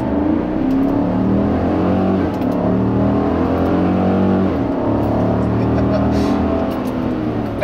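A 2016 GMC Sierra 1500 Denali half-ton pickup with its large V8 accelerating hard at full throttle, a loud, steady engine drone with rising harmonics that dips briefly, as on a gear change, then climbs again.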